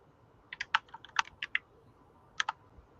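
Keyboard keys clatter in quick uneven bursts of sharp clicks, two small clusters of typing with a brief gap between them, close and fairly quiet in an otherwise still room.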